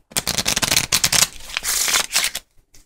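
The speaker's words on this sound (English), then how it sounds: "Shuffle the cards." A deck of playing cards is shuffled close up during a card trick: a few quick, crisp riffling bursts in succession, loud and alone, ending in a short clatter.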